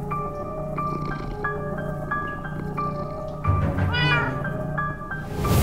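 The cat Winslow in Minecraft: Story Mode lets out a series of repeated, tonal meows, close and clear, with a longer whining caterwaul near the end over a soft game background.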